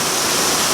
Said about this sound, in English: from the roof above me you can see the water falling from the roof